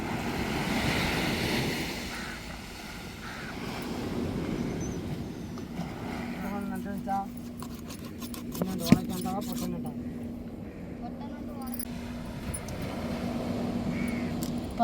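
Sea waves wash onto a beach in a continuous rolling roar, with wind buffeting the microphone and voices talking over it.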